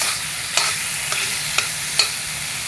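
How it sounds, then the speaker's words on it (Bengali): Boiled potatoes sautéing in an onion-paste fish curry sizzle softly in the pan, with a few light spatula taps and scrapes at irregular intervals, close and without talk. "আলুগুলো কিন্তু আগেই সিদ্ধ হয়ে গিয়েছে। আমি আরও অল্প কষিয়ে নেব।"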